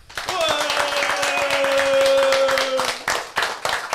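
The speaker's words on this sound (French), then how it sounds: "j'ai envie d'applaudir une deuxième fois" Audience applause for a guest after a live interview and performance, brisk clapping from a small crowd under a long held vocal note, with cheering and scattered claps trailing off.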